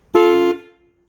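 A single loud car horn honk from a Pontiac Chieftain, short and steady, close by, with a brief ringing tail.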